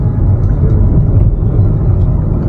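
A car's engine and road noise make a steady, loud low rumble from inside the moving vehicle, continuous throughout with no speech.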